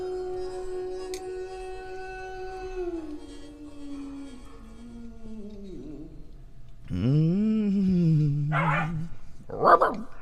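Dogs howl in long, wavering, sliding tones, then break into short whimpers and yips toward the end. Close and fairly loud.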